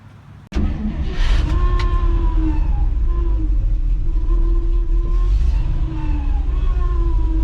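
An old farm truck's engine starts with a sharp thump and then runs at a steady loud drone, with whining tones rising and falling as it drives.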